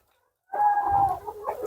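A single brief call from an Andijan black breed chicken or rooster rings out close by after a moment of quiet, followed by faint farmyard noise.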